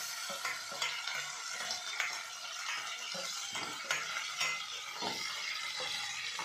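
Mustard seeds crackle and sizzle in hot oil in a pan, with a steady frying hiss, quick popping bursts and occasional soft stirring scrapes throughout, close and fairly quiet.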